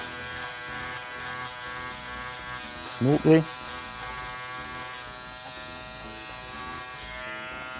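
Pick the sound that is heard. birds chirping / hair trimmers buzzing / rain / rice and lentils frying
hair trimmers buzzing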